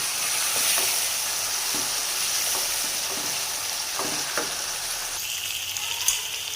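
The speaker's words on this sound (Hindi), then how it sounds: "तो मज़ीद हम 2 मिनट तक और फ्राई करेंगे इसे।" Chicken with tomato fries in a pan for mash dal, giving a loud, steady close-up sizzle with occasional scraping stir sounds and no talking.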